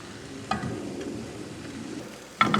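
Small banana, sweet potato and oat cakes fry in a lightly oiled pan, a steady close sizzle broken by two brief sharp clatters of a utensil against the pan.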